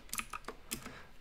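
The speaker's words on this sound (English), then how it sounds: "I could just type in trend" A handful of quick keystrokes on a computer keyboard, faint and close, tapped in a short irregular burst with no talking.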